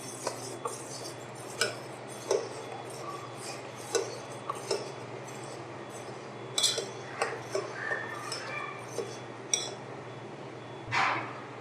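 A spoon clinks against a pan while strawberry ice cream mixture is stirred and cornflour is added, a series of light, spaced metallic taps over a low steady hum, close and quiet.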